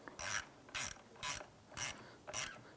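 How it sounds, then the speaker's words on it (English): A ratchet with an 8mm socket snugs down the battery ground terminal nut on a 2005-2007 Ford Five Hundred, giving five crisp, evenly spaced clicking strokes, close and clear with no talk. "Use your 8mm socket to go ahead and snug this down."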